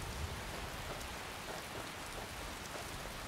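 Steady rain pours in the video game Skyrim, an even, continuous hiss of falling drops with no voices over it.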